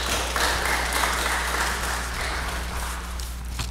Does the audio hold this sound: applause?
yes